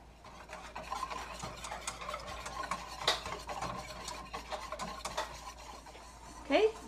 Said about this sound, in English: Once it starts boiling, you set the timer for 1 minute, stirring constantly while it boils.